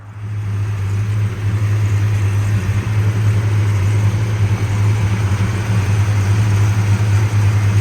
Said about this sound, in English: Motor runs real nice and smooth.